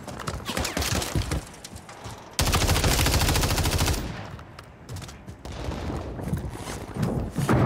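Striker 9 submachine gun firing in Warzone, with rapid automatic bursts that come loud and dense, the heaviest stretch in the middle, among other gameplay noise and no talking.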